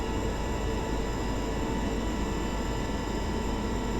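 A Boeing 707 jet engine in a flight simulator roars steadily, a constant loud broadband rumble with faint tonal whine and no voices.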